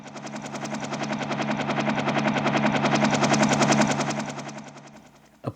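Helicopter sound effect from a Donner DEP-20 digital piano, a steady synthetic rotor chop with dense rapid rhythmic thumping that swells over several seconds and then cuts off abruptly.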